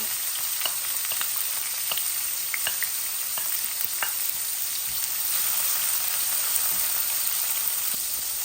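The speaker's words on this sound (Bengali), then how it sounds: "আমার পেঁয়াজটা অলমোস্ট ভাজা ভাজা হচ্ছে।" A large red onion fries in oil with garlic, giving a dense, continuous hiss of sizzling with occasional small pops and crackles, close and steady, with no talk.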